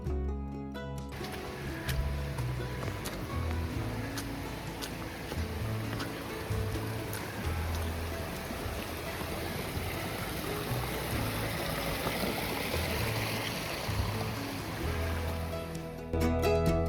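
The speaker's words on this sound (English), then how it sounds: "we're hiking along this incredible river" A mountain river rushes beside a winter hiking trail near Alum Cave on Mount LeConte, a steady broadband wash of flowing water with a few faint clicks and knocks, no talking.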